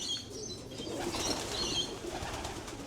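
Pigeon wings flap in a quick, close flutter as a bird flies past at a loft, and faint bird calls sound in the background.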